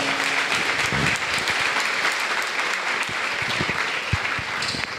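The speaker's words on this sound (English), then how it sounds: "can you please give them a round of applause?" Sustained applause from an audience thanking panelists after a panel discussion, a steady dense wash of clapping filling the room at an even level from start to finish.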